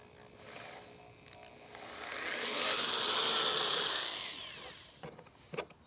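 A drill enlarges holes in the plastic hull of a Hoodoo Tempest 120P kayak, a brief whine that swells, peaks and fades over a few seconds, with soft clicks and handling noise before and after.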